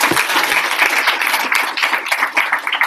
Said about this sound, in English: So give Tay a round of applause.